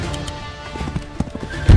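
Horses attack in the Wargroove video game, producing a quick run of clip-clopping hoofbeats and a whinny, ending in a heavy impact thud.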